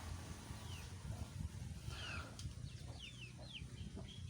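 A chicken clucks faintly outdoors, with a few short, scattered calls over a steady noisy background and no one speaking.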